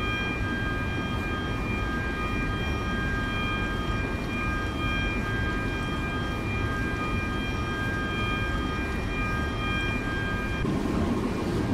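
A high-speed ICE train in the Simrail simulator rumbles along steadily, a continuous dense rolling drone with faint tonal whine throughout, no talking.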